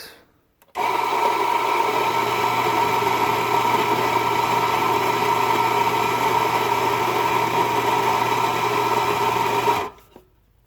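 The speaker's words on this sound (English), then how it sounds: "Zero out your vessel you're going to grind into, just like that, and then grind into that." A Casadio coffee grinder grinds into a vessel on a scale, starting abruptly, holding a steady, loud motor whir for about nine seconds, then cutting off.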